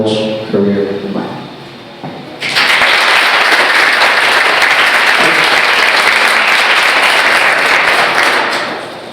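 A speaker addresses the room at a student pitch day event, then loud audience applause breaks out and continues as a dense, sustained roar of clapping until it begins to fade at the very end.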